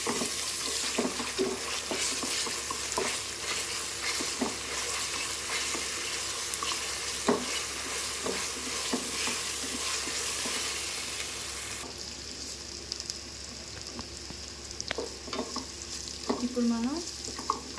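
Ginger garlic paste fries in hot oil for tomato rice, a close, continuous sizzle broken by frequent spoon scrapes and taps against the pan, with a brief shift in texture partway through and no talk.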